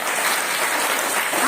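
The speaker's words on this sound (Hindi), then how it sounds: "ईश्वर के लिए जोर से ताली बजाइए" A worship congregation claps loudly for God during a Hindi-language service, producing a thick, continuous wash of applause that stays at full strength throughout the short stretch.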